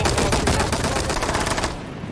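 Dense automatic gunfire from the video game Rainbow Six Siege, a loud sustained burst of rapid shots that fills nearly two seconds before cutting off into quieter ambience.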